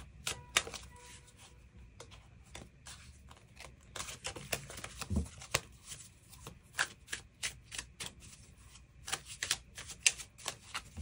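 Tarot cards being shuffled and drawn in a quiet room, with dense, rapid papery riffles and crisp flicks and snaps of card edges coming close and clear, without any talking.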